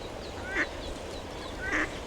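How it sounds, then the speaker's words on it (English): A duck gives two short quacks at a river in spring, with ducklings nearby, the calls spaced about a second apart over steady outdoor background noise. "So a duck with its ducklings."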